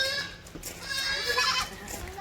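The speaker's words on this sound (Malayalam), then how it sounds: "നല്ലൊരു മോയാട്" A goat bleats on a goat farm in Malappuram, a close, wavering cry that fills the short moment over faint background noise.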